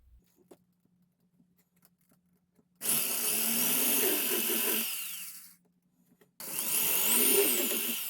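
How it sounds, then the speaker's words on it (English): A power drill whirs loudly in two bursts while drilling holes for a power connection and switch, the first about three seconds long and winding down, then a second burst after a short pause. "now I just got to drill holes in this side for the power and the switch"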